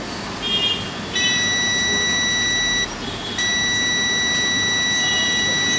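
Multimeter beeping in continuity mode while testing a capacitor on a 19-volt line, a steady high-pitched tone sounding in two long stretches with a brief gap, over faint background hiss.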